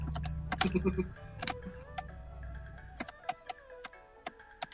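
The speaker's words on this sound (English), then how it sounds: "I hear the Parker typing." Irregular clicking keystrokes patter on a keyboard, sparse and uneven, over a low background hum that fades after the first second.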